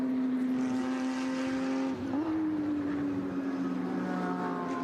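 Race cars, Porsches among them, run on the track at a vintage helmet race at Circuit of the Americas. Their engines drone as one steady, sustained tone that dips briefly in pitch as the cars pass at a distance.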